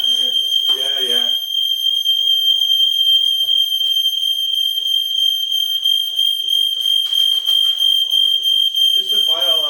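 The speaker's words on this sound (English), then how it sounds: "At least the fire alarm's working." A smoke detector fire alarm shrills continuously at a steady high pitch throughout, loud and close, while people talk over it.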